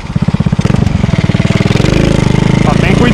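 A homemade 90cc mini motorcycle pulls away in first gear on a dirt road, its small engine popping in a fast, steady rhythm that climbs in pitch, loud and close, with someone talking over it.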